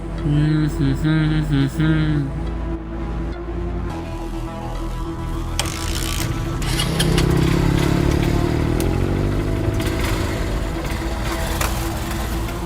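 A motorcycle engine starting and revving, then settling into a steady running drone that rises and shifts as the bike pulls away, loud and close, with background music at the start.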